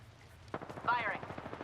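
Rapid automatic gunfire from the video game Apex Legends starts after a quiet moment and continues as a close, steady rattle of shots to the end.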